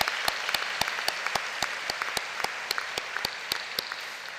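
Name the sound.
applause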